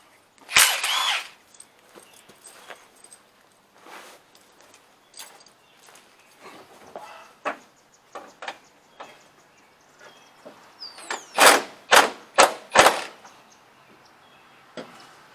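Sharp metallic hammer blows driving fasteners on a truck bed crane mounted to a toolbox, scattered single strikes at first, then a loud cluster of heavy, closely spaced hits near the end.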